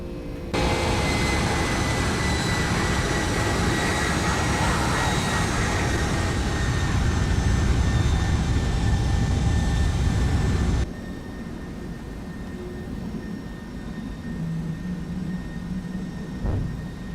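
A Flight Factor Boeing 757-200 jet in X-Plane 12 roars loudly at takeoff thrust and climbs, a dense steady engine blast that drops abruptly to a quieter cockpit hum.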